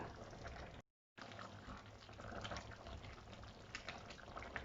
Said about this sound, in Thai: หม้อเริ่มเดือดแล้ว